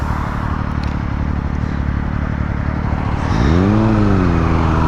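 A Honda CBR 300R motorcycle engine drones loudly and steadily, then revs sharply upward with rising tone as the throttle opens, close and dominant with no talk.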